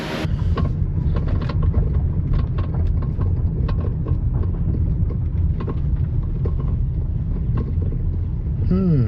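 A 1991 Ford F150 pickup with a suspected sway bar link fault rolls along on a test drive, its engine and road rumble a steady low drone heard from inside the cab, with wind noise and a brief squeak near the end.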